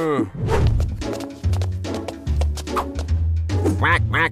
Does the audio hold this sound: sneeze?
no